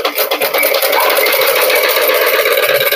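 A sewing machine runs fast and steady, double stitching a blouse seam, its rapid needle chatter continuous and close for the whole stretch.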